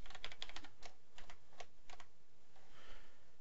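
Close, quiet clicking of a computer keyboard as a new password is typed, a quick run of keystrokes with short gaps, then a few last taps.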